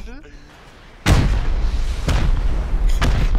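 Rockets slam into a base during a raid in the survival game Rust: after a quiet lead-in, three loud close explosions hit about a second apart, each followed by a heavy rumbling tail.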